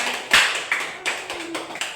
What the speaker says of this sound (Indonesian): kelompok Ani dan Nisa, tepuk tangan dulu ya semuanya.